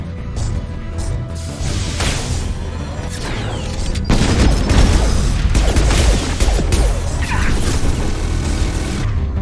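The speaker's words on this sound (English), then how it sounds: "Taking fire." Dense game gunfire and booms from a Mass Effect 2 firefight, with bursts, crashes and explosions layered continuously and loudly throughout, growing heavier midway.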